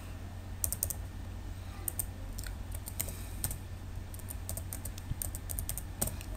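A name typed on a computer keyboard, quick light clicking keystrokes in short irregular bursts, close but quiet over a low steady hum.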